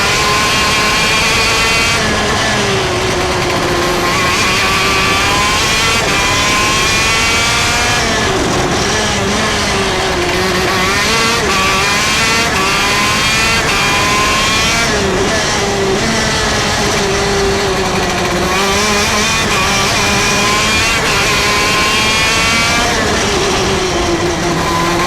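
A go-kart engine runs continuously on a race track, its loud, buzzing note rising and falling steadily as the kart accelerates and brakes through corners, close and unbroken for the whole stretch.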